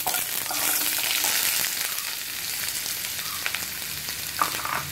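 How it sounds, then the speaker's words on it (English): Onions sizzling in hot oil in a pan for chilli beef, a steady bright crackle that runs close and loud throughout, with a few sharper pops near the end and no one talking. "So guys, the oil is all heated up. Now you have to put this in an order. So first your onions,"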